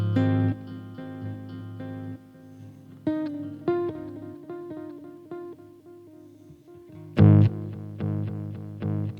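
An electric guitar plays through a delay pedal, a few picked notes and chords, each followed by fading repeats that spread left, right and center before the pattern restarts, moderately quiet with no talking.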